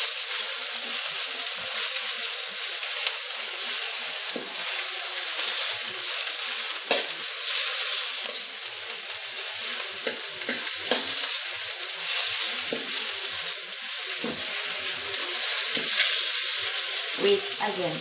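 Siningog cooks with young lemon leaves in a steady, bright sizzle that carries on unbroken, with scattered soft stirring clicks and bubbling pops and no voices.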